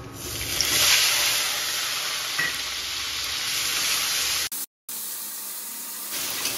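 A paste of onion, garlic, tomato and green chilli hits hot oil in a Bengali kitchen, giving a loud, steady sizzling hiss that holds for several seconds before cutting out briefly, then returning more quietly.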